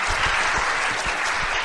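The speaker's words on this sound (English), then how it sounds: "let's give a big round of applause to all our speakers" A conference-room audience breaks into dense, steady applause for the presenters at the close of a session, with many hands clapping at once and no voices rising above it.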